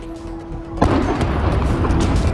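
An exploding drone in Eilat, caught in news footage, sends out a sudden loud boom partway through, followed by a sustained rumbling blast noise with no talk over it.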